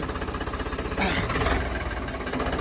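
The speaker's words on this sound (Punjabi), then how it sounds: "ਮੈਂ ਅੱਜ ਇਹ ਟਰੈਕਟਰ ਚਲਾ ਰਦਾ ਮਹਿੰਦਰਾ ਨੋਵੋ 755" A Mahindra Novo 755 tractor engine idles close by with a steady, rumbling throb that swells briefly midway, heavy and continuous throughout.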